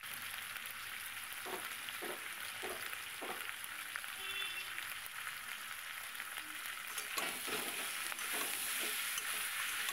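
Morla fish with salt and turmeric stirred in a pan: a steady close sizzle of frying, broken by a series of scraping spatula strokes in small bursts, with no talking.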